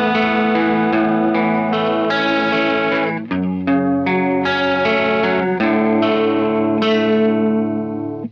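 A DOD Ice Box chorus pedal set fully wet with its rate knob turned up gives a fast, warbling shimmer to a series of picked guitar notes and chords, steady and prominent over about eight seconds, with no voices.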